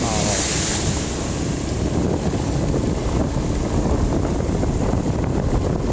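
Water rushes steadily with a broad, loud roar, mixed with wind buffeting the microphone, constant throughout with no voices.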